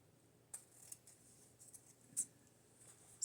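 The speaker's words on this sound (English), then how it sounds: "So I just need to trim these ends up" Scissors trimming ribbon ends for a doorknob wreath, a handful of quiet, crisp snips spaced irregularly, close but faint in a still room.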